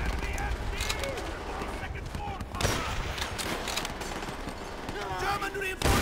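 Machine gun fire in the World War II shooter Call of Duty: World at War, rapid bursts crackling amid battlefield explosions and chaos, with shouted voices over the din.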